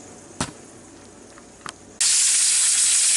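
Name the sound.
pressure cooker hissing steam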